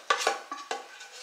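A utensil spreading cheesecake mixture over a speculoos base in a dish makes a few soft scraping and tapping strokes, close and quiet, about four distinct touches in quick succession.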